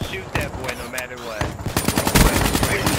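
Rapid gunfire rattles in a Call of Duty Black Ops III multiplayer match as a player shoots at a hostile robot, with loud bursts that grow denser toward the end and game sounds and voices mixed underneath.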